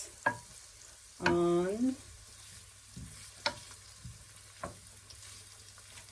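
Chopped onion and garlic fry in hot oil with a soft, steady sizzle, broken by clinks and scrapes of stirring utensils and one longer scraping sweep, close by, with a brief spoken word.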